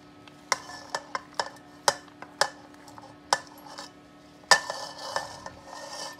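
Diced small onions, a quarter cucumber and two green chilies tipped into a bowl in a home Indian kitchen, giving a series of sharp, close clinks and taps spaced irregularly, with a louder clatter near the end.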